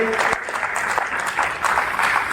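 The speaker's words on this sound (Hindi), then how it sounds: "एक बार जोरदार तालियां संदीप जी के सम्मान में बजा दीजिए।" A Kavi Sammelan poetry gathering audience breaks into loud, dense applause, a continuous wash of many hands clapping close by for the whole stretch, with voices mixed in underneath.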